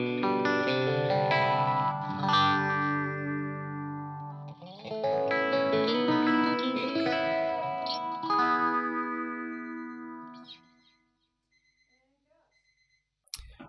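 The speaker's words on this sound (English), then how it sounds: "So a bit of phase, delay," Electric guitar chords and notes drenched in phaser sweep, delay repeats and reverb, playing steadily for about ten seconds before trailing off into near silence.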